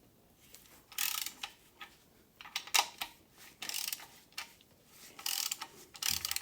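Ratchet working bolts loose on a Land Rover 2.25 engine during disassembly, rapid clicking bursts in uneven spurts with short gaps between, close up and crisp.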